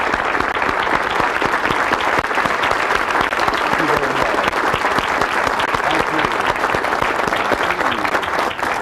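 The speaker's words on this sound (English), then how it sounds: "Let's give Zig one more well-deserved round of applause." A large audience at a Zig Ziglar success seminar gives sustained, loud applause. The dense, full-room clapping continues steadily without a break, with a faint murmur of voices underneath.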